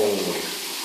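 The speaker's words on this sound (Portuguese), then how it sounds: "Só para ligar o chuveiro aqui, vou tomar banho." A bathroom shower is switched on, giving a short burst of rushing water that settles into a steady spray.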